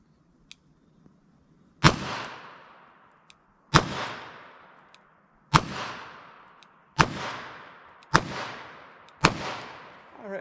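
A revolver fires 148 grain Hornady wadcutter hand loads at a target five yards away, six sharp, loud shots spaced about one to two seconds apart, each followed by a decaying echo.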